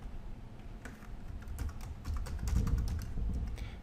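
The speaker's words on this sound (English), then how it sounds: "Type in my username." Username being typed on a computer keyboard, a quick run of soft, close key clicks at an uneven rhythm, fairly quiet, with no voices.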